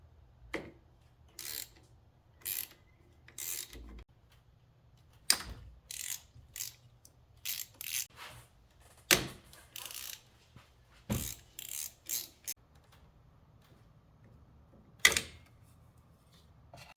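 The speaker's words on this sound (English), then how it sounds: "Remove this 12mm nut and one, two 12mm bolt" A ratchet wrench works 12mm nuts and bolts on a 2010 MK5 Volkswagen Jetta, giving short bursts of rapid clicking separated by pauses, close and fairly quiet in a still space.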